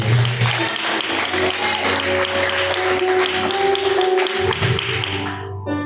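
A church congregation claps steadily in praise over sustained organ-like tones, the clapping dense and continuous until it stops abruptly near the end.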